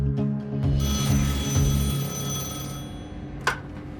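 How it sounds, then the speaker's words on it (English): A telephone rings in a quiet house, a loud buzzing ring with a steady tone that fades out, then a sharp click follows. "All of a sudden, the phone rings."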